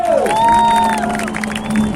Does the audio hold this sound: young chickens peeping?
no